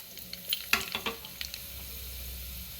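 Onions, dried red chilies, green chilies and curry leaves drop into hot oil for tempering with a burst of crackling and sizzling, a few sharp pops and stirring, then settle into a steady, quieter fry.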